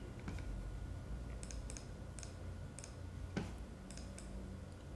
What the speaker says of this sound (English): I'm going to do some more typing.